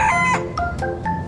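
A toy rooster gives a short, loud electronic cock-a-doodle-doo crow with a few chopped, stepped tonal bursts, heard close and alone.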